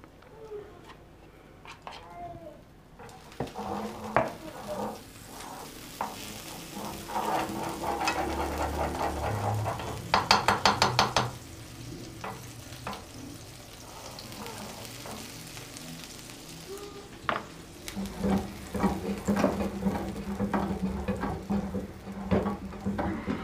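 Aloo paratha made from a liquid dough fries in oil or butter on a pan, giving a steady low sizzle with scattered scraping and tapping, while a voice is faintly present.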